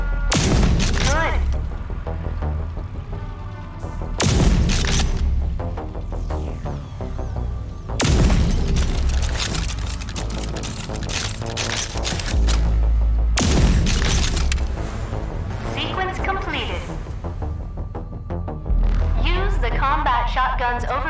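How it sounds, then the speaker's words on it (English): Shotgun overdrive blasts against simulated enemies in the video game Rage 2: four heavy booming shots spaced several seconds apart, each with a long ringing, crackling tail, between bursts of game effects and a talking voice. "Shotgun's overdrive against the simulated enemies."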